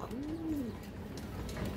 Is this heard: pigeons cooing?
yes